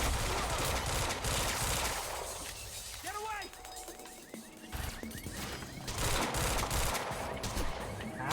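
Bursts of gunfire and shattering impacts in the video game Quantum Break, loud and dense, with game characters shouting over the shooting.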